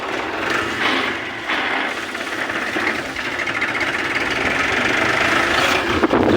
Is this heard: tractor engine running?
yes